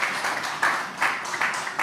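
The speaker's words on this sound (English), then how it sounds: "With a round of applause, can you please welcome Banke as she joins the panelists on stage" Audience applause welcoming a panelist onto the stage at a music business conference, a short burst of steady clapping that swells in waves, moderately loud and without speech.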